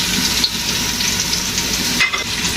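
Onion sizzles as it fries in a pan for karela chicken, a close, steady hiss broken by a couple of faint stirring scrapes, with no voices.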